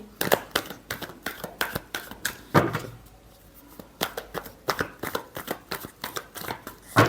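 Tarot cards are shuffled by hand in quick, rhythmic bursts of riffling and slapping that pause briefly midway and then resume, heard close and with no voices over them.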